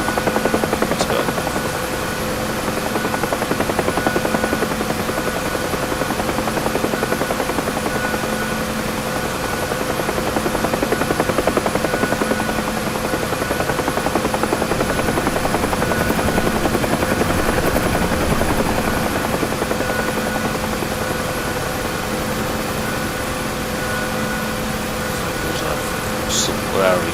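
A UH-1H Huey helicopter flies in the DCS combat flight simulator, with a loud, steady rotor drone and turbine whine holding at an even level throughout the clip.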